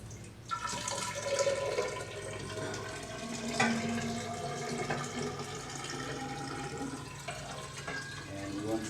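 Soil suspension poured from a stirring cup into a container during a soil texture analysis, a steady liquid splashing and trickling pour lasting several seconds, with a brief voice partway through.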